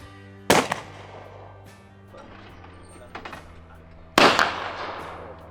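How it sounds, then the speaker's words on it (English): Two sharp, loud shotgun blasts several seconds apart at a clay shooting competition, each with a short echoing decay, plus fainter mechanical clicks in between against a quiet outdoor background. "First, the shooter will shoot with both eyes open without an Acro."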